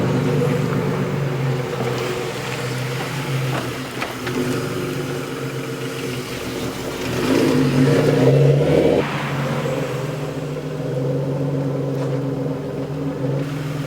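A lowered car on the road, its rear dropped with extra camber, engine humming steadily at mid pitch with a brief louder push of acceleration partway through, no talking.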